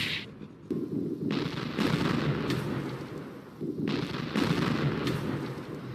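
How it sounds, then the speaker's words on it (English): Gunfire and artillery fire in the Project Reality combat game during an assault, a series of heavy booming blasts and rumbling detonations with rolling echoes, several distinct explosions spaced a second or two apart. "Indirect fires and direct fires from CCA also shift and cease based on the maneuver of the assault force."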